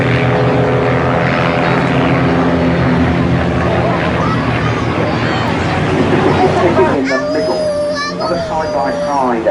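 A propeller display aircraft roars past at a seaside airshow with smoke on, flying as part of a three-plane aerobatic formation, its loud sustained engine drone shifting pitch as it passes, with a commentator talking over it throughout.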